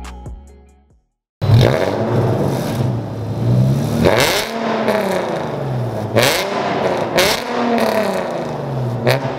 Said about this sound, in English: I have an exhaust leak.